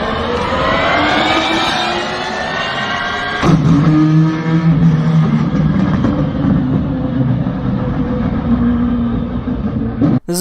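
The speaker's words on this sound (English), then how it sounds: "Here's what it sounds like to switch from an electric motor to a combustion engine in the same car." A car shifts from electric motor drive to its combustion engine: a rising whine with climbing tones gives way midway to a lower, rougher engine drone that continues loudly until a sudden cut at the end.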